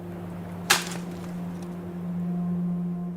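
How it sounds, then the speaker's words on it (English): A tree branch breaks with a single sharp crack, close and short, against a quiet steady background hum. "which is the sound of a branch breaking."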